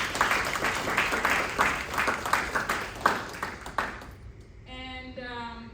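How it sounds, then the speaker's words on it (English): Audience applause welcoming guests from Ghana fills the room with a dense, steady patter of clapping for about four seconds, then stops abruptly and a short tonal chime rings alone. "If you could please welcome them and give an applause."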